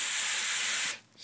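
A single continuous aerosol hiss as a cleaning product is sprayed onto a paint-marked cart surface in a garage, lasting about a second before cutting off abruptly.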